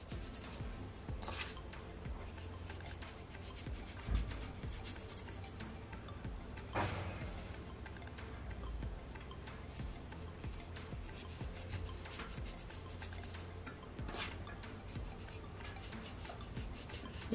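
Hands rub seasoning into a raw salmon fillet, giving soft, faint, close scratchy rubbing with occasional light pats and brushes, with no talk.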